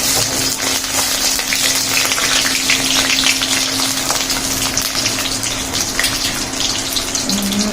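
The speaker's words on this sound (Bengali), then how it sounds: "তো এখন চলছে নারকোল ভাজা" Coconut frying in a pan gives a loud, steady sizzle that runs continuously, with a faint low hum underneath and no talking.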